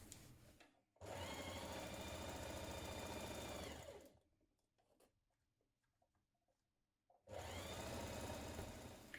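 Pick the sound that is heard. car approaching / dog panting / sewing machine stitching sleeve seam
sewing machine stitching sleeve seam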